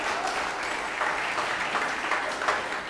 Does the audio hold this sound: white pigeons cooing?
no